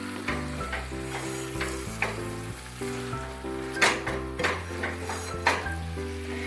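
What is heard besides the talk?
chicken frying while being mixed with masala in pan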